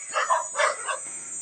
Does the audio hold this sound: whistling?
no